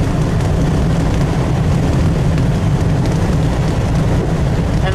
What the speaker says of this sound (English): it has a really nice volume to the motor, a really nice ferocious tone to the custom exhaust